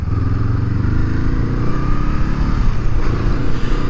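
A 2023 Honda CL500 Scrambler motorcycle engine drones loud and steady during a ride, a close continuous rumble with wind noise and no pauses.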